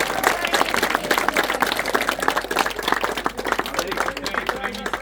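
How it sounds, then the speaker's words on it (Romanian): Audience applause at an award ceremony for a youth football cup, a dense, loud burst of clapping from a crowd that carries on steadily throughout, with voices mixed in. "Hai să aplaudăm, bravo!"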